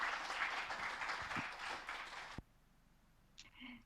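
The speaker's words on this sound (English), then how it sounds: "A round of applause, if I may ask" A round of applause from an audience, steady clapping that cuts off abruptly, followed by a brief quiet stretch with faint movement.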